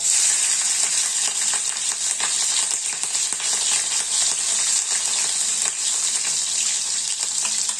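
Cumin seeds and green chillies sizzle steadily in hot oil, a dense continuous crackle with scattered sharp pops, close and loud throughout, while pithla is being made.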